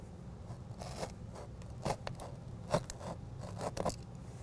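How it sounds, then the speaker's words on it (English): A new utility blade slices through a plastic truck bed liner in short, rasping scrapes and snips, close and fairly quiet, several strokes in irregular rhythm. "With a brand new blade, I'm going to take and cut that line."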